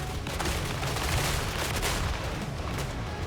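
Dense, continuous gunfire and booming volleys from a battle in Total War: Warhammer 3 roar loudly and without pause, with no voices over them.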